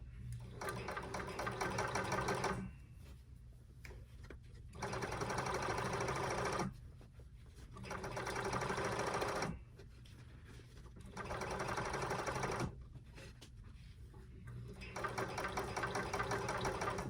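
A blind stitch sewing machine hems sheer drapes in bursts of steady, close mechanical whirring a few seconds long, separated by short quieter pauses, with no talking.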